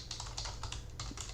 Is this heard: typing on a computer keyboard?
yes